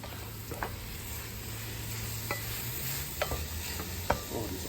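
Onions sizzle and fry steadily on a South African braai, with a continuous crackling hiss, a low hum underneath and a few sharp pops and stirring scrapes.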